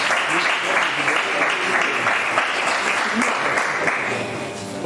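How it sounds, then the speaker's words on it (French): Sustained applause fills a university hall at a law students' mock trial event, steady and close, with faint voices murmuring underneath before the clapping eases slightly at the very end. "Veuillez l'applaudir encore s'il vous plaît."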